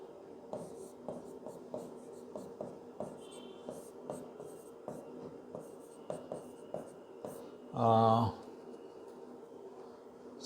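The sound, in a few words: writing on a board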